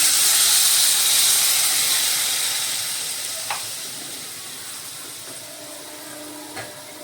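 A loud hiss and sizzle as water hits a hot pan, gradually fading to a quieter simmer, with a couple of light clinks.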